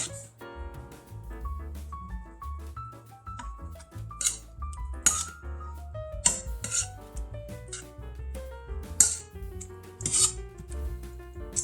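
A spoon scrapes and stirs Parmesan cheese into a thick breakfast casserole mixture in a large bowl, giving soft rasping rubs punctuated by sharp metallic clinks against the bowl, fairly close and alone.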